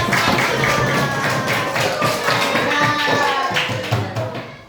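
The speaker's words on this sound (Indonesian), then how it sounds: "Oke, tepuk tangan buat" A class of pupils clapping their hands together in a classroom, a steady, busy patter of many hands with faint voices mixed in, ending with a few louder claps.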